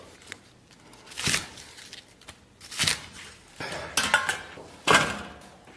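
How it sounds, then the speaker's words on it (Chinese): A knife chopping red scallion into segments on a cutting board for spicy stewed pig's head, about five loud, separate chops spread unevenly over several seconds with faint clatter between them. "首先咱们切点红葱段，"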